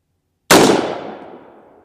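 A single loud, close gunshot fired at a Level III body armor plate outdoors, a sharp crack followed by a ringing decay of about a second and a half.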